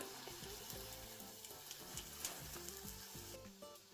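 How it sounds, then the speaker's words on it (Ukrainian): Meatless vegetable cutlets sizzle and crackle in hot oil in a pan, a busy, continuous frying hiss with small pops, fairly close. "Вимаємо їх і другу партію обсмажимо"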